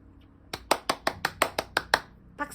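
Eight quick, evenly spaced hand claps ring out close and crisp in a quiet indoor room, followed by a softer final clap.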